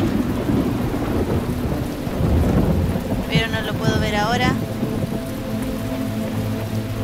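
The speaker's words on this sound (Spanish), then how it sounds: "Se puso a llover" Rain and thunder in The Talos Principle video game, steady loud rainfall with rolling low thunder swelling midway, while a person speaks briefly over it.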